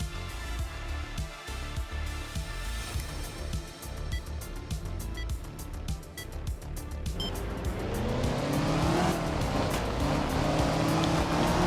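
A rear-wheel-drive BMW rally car in the racing game Art of Rally revs hard and steady throughout, its engine note climbing in pitch near the end as it accelerates, with tire noise mixed in.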